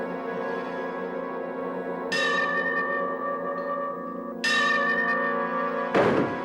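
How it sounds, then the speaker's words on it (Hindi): A bell inside a house, rung by pulling a rope from a sofa, sounds in three loud, separate strikes. Each bright metallic tone rings on and overlaps the next, with a dull knock at the last strike. "सोफे पे बैठकर रस्सी को खींचेगा और अंदर बेल बजेगा"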